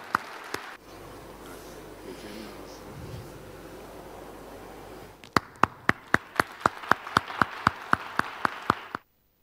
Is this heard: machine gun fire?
no